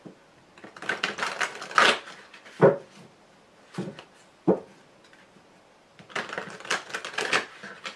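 Tarot cards being cut and handled: several crisp bursts of papery flicking and clicking, separated by short pauses, close and fairly clear with no talk.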